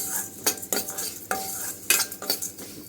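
Lentils (dal) frying in a pan for coconut chutney, with repeated scraping stirs from a utensil over a steady close sizzle, no talk.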